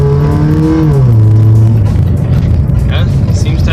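A Toyota Paseo's engine runs close by, its pitch rising and falling through a rev that settles back toward idle, loud and droning, with someone talking over it.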